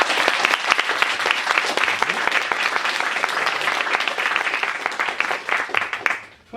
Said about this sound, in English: Let's give a round of applause for Tony.